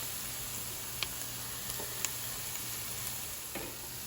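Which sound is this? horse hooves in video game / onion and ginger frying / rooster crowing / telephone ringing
onion and ginger frying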